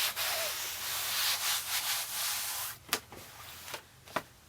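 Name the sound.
rubbing fabric down onto Cricut Maker cutting mat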